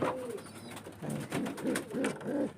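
A pigeon coos close by, a run of soft, throaty rising-and-falling calls repeated several times in quick succession, with no voices.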